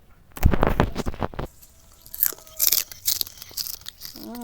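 A homemade crispy fried potato snack is bitten and crunched close up, giving a burst of dense crackling crunches in the first second, followed by quieter chewing and scattered small sounds.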